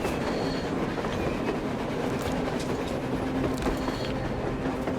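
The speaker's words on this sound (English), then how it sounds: "A train! A damn train on the surface!" A train rolls past on the surface in the Metro Exodus video game, a steady rumbling clatter of wheels and cars that holds loud and continuous throughout, with no voices.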